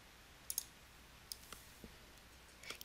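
Computer mouse clicks, several faint, crisp clicks at irregular intervals, heard alone against a quiet background.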